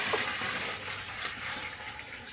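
Water pours steadily into a barrel of wheated bourbon mash, a continuous rushing splash at moderate distance with no talk.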